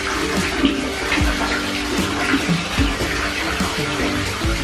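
Water runs and splashes into a child's bath, a loud continuous gush with bubbly sloshing and occasional low plunks close by.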